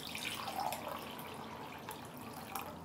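Filtered water pouring into a small pot of stock on a stovetop, a soft steady splashing trickle that runs throughout at moderate closeness, with no talking.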